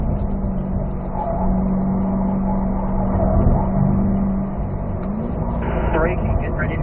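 Car on the Spring Mountain North Course race track accelerating out of a curve, a steady in-car engine drone rising toward the end, heard under an instructor's constant talk.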